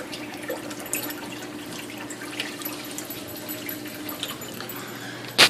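Water running and trickling steadily into an aquarium sump, a continuous soft wash with faint splashy drips, ending in a brief sharper splash.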